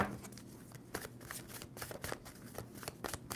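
A tarot card deck being shuffled nearby, with a quick run of crisp riffling card flutters and soft slaps, the rhythm steady and close, no talking.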